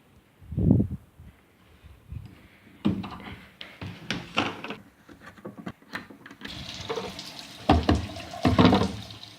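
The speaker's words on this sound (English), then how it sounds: "now we're going to fill gas into this thing" Liquid splashing and trickling at close range in uneven spurts and gurgles, consistent with gasoline being poured by hand into the fuel tank of a V8 car, with brief pauses and handling clunks between pours.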